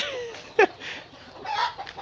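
Chicken clucking at a Thai poultry breeding farm: a few brief, sharp clucks and one short squawk, fairly close but modest in volume, over faint background noise.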